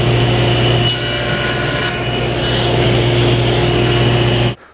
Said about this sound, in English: I'm just going to take my miter gauge and make 1 cut on each board at 10 inches